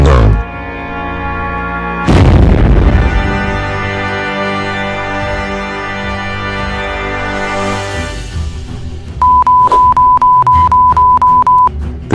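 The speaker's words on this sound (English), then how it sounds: "Chernobyl is exploded and it caused lava." A video-game explosion at the Chernobyl city scene lands as a sudden loud boom about two seconds in. It sits over a droning, throbbing musical hum and is followed by a run of sharp repeated beeps.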